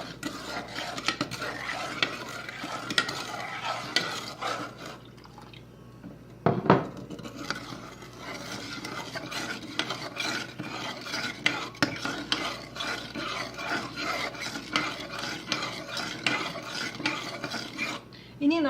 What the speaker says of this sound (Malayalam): ഇനി ഇതിലേക്ക് ഈ പാല് ഗ്രാജുവലായിട്ട് ഒഴിച്ചു കൊടുക്കണം. ഇളക്കിക്കൊണ്ടിരിക്കുകയും ചെയ്യണം.